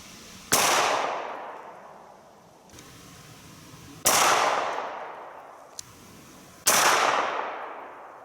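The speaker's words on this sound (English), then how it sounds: "I want to see where that hit, and I'll shoot a few more." Three sharp gunshots from a light rifle fired at a target crack out at roughly three-second intervals, loud and close, each followed by a long fading echo, with a faint click between shots.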